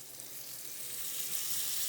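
Shrimp frying in a pan give off a steady, close sizzle. The hiss builds slightly louder over the short stretch and no one speaks.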